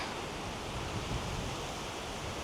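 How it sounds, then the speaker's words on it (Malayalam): Strong wind with mist on the Agasthyarkoodam mountain trail, a dense, steady roar of gusting air buffeting the microphone, broad and unbroken with no talk. "കാറ്റ് കണ്ടോ ഗൈസ്, കാറ്റ് കണ്ടോ?"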